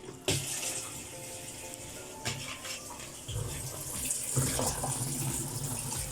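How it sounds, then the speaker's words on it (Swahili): Tap water pouring steadily into a Ramtons single-tub washing machine, a continuous rushing gush that grows fuller after a few seconds, close and alone. "Maji inaingia."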